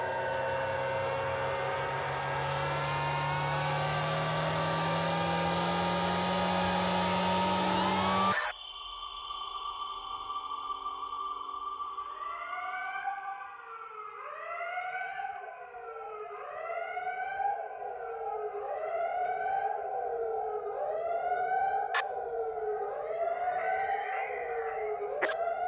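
Alarming film trailer music for the Michael Bay film Ambulance: a loud sustained siren-like wail cuts off abruptly, then gives way to repeated swooping electronic tones rising and falling over a dark backdrop.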